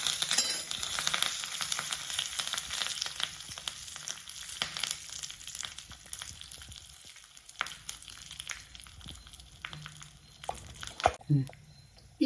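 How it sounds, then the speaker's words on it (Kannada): Spices crackle in hot oil as curry leaves go in, giving a dense, close sizzle with popping bursts and utensil clinks, and a person talks over it. "ಈಗ ಚಟಪಟ ಅನ್ನತ್ತಿದ್ ನೋಡ್ರಿ, ಇವಾಗ ಕರಿಬೇವು ಹಾಕಿ ಸ್ವಲ್ಪ ಕೈಯಾಡಿ ಬಂದ್ ಮಾಡ್ಬಿಡ್ತೀನಿ"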